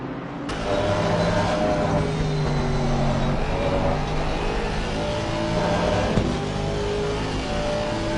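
A race car engine in Assetto Corsa Competizione at Laguna Seca drones steadily at high revs, a sustained mid-pitched roar with slight pitch shifts, no voices.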